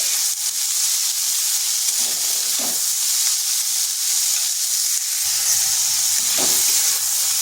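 Yardlong beans fry and get stirred in a pan, a continuous close hiss and sizzle with occasional soft scrapes, heard alone without talk.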